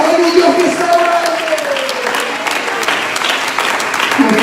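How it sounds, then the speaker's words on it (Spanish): A church congregation applauds in Bogotá, a dense, steady wash of clapping heard alongside a voice speaking over it. "Cuando le dan un aplauso al Rey de la Gloria"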